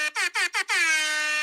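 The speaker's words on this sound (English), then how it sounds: "It's the cheap man's air horn." Three short blasts of a loud, brassy air horn, then one long sustained blare, close and clear.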